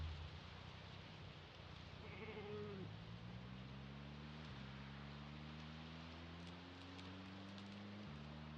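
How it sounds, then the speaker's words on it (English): Sheep in the video game Project Zomboid, three ewes and a ram, give out long, low, wavering bleats that overlap and follow one another close by, backed by a steady rain-like hiss, with no talking. "Three ewes and 1 ram."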